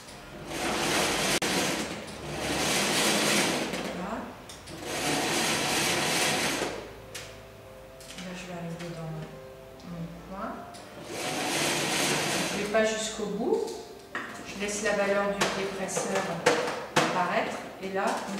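A sewing machine stitching fabric in bursts, several loud whirring runs of a few seconds each separated by pauses, with someone speaking French in the gaps.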